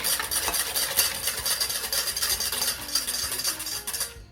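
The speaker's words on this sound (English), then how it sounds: "And we're just whisking." Brisk, continuous whisking of a crème brûlée custard mixture in a bowl, a rapid scraping, swishing rhythm close up that stops abruptly at the end.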